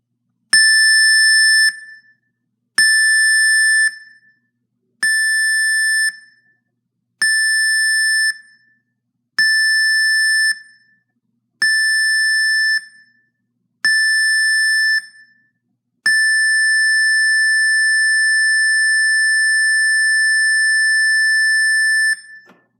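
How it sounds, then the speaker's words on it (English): A cruise ship's general emergency muster alarm sounds loud and alone: seven short high-pitched electronic tone blasts at a steady rhythm, then one long sustained blast. "the mustard drill alarm, the general emergency alarm is the all famous high pitch"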